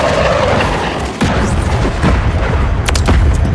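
Artillery fire-mission explosions in Call of Duty Modern Warfare 3 multiplayer, a sustained rumble of booming blasts and crackling impacts with sharp bursts near the end, dense and loud throughout.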